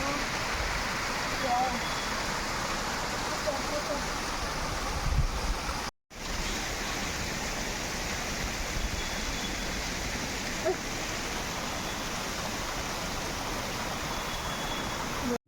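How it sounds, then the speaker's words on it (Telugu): A waterfall in North Sikkim roars in a steady, dense broadband rush, close and continuous, with a brief dropout partway through and faint voices beneath the water. "ఇదే వాటర్ ఫాల్."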